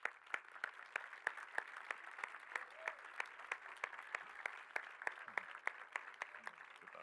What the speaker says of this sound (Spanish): que recibamos con un fuerte aplauso